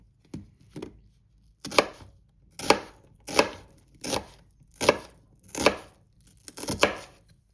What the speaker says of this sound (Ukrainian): Достаємо дровиняку, досточку і нарізаємо нашу цибулечку.